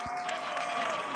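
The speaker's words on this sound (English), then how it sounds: "Sounds like you got a little bit of a crowd there" An outdoor crowd at what may be an ice hockey game gives off a continuous wash of cheering and applause, heard at a distance and steady throughout.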